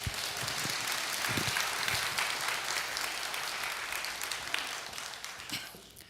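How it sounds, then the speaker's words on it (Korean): A congregation at a Seattle church's Sunday service applauds warmly to welcome a pastor, a thick rain-like patter of clapping that stays strong before easing off near the close. "뜨거운 박수로 맞이해 주세요"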